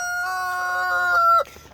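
A rooster in a hoop chicken coop housing Black Marans and Easter Eggers gives one loud, close crow that holds a sustained tone, then breaks off abruptly.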